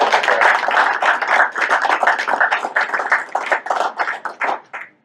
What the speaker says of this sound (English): If you join me in a round of applause for recognizing Greta.